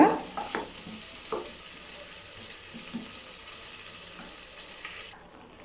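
Plantain pieces for a Tamil plantain fry being stirred in a hot pan, a steady sizzle of frying with a few scraping strokes of the spoon early on, continuous and fairly close, cutting quieter at the end.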